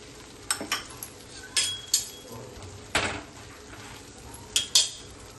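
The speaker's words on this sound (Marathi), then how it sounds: "मस्त फ्राय करून घेऊ आपण. बटर लावून घेऊ पावांना." Pav bread frying in butter on a pan for pav bhaji, a faint low sizzle under repeated sharp clinks and scrapes of a utensil against the metal pan, close by, no voices.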